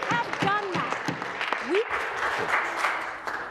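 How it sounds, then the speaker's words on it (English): Steady applause fills a parliamentary chamber during question period, with a dense clapping wash running throughout and voices heard through it. "I could not hear the minister because of the applause."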